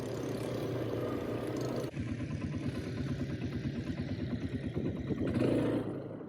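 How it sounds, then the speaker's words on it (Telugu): A quad bike engine runs on a Dubai desert safari, giving a steady, moderately loud mechanical drone with a rough, pulsing texture that shifts slightly in tone partway through. "సాయి బైక్ తీస్తున్నాడండి, ఫస్ట్ టైం కదా"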